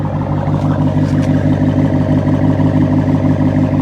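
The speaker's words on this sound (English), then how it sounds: "listen to this exhaust" A Dodge Challenger with a six-speed manual runs with a steady, throbbing exhaust rumble, close and loud, its low pulses repeating evenly throughout.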